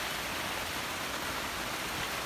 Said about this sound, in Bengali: আর মুষলধারে কিন্তু বৃষ্টি হচ্ছে।